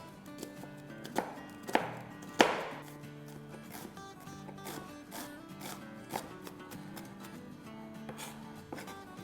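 A small onion being chopped with a knife on a board: a run of quick, sharp knife strikes. Several louder hits come early, then steadier rhythmic taps follow, all set over a faint background tone.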